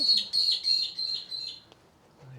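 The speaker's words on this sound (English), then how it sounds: "Crazy birds." Several small birds chirp and tweet in quick bursts close by, a busy run of high calls that fades toward the end, with a low rumble and a brief murmur at the close.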